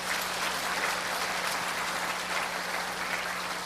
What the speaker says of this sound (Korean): 우리 4대 교구를 위해서 박수 한번 쳐주시기 바랍니다.